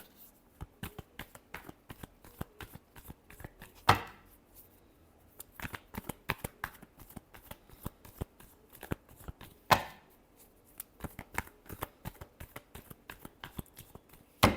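Tarot cards are shuffled by hand in a quick series of crisp, close riffling slaps and flicks, with two sharper bridging snaps standing out, all without talk.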